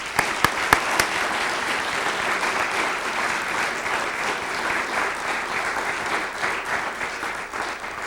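Loud, sustained applause from an audience at a district volunteer recognition event, starting with a few sharp individual claps before swelling into dense, even clapping that carries on for about eight seconds.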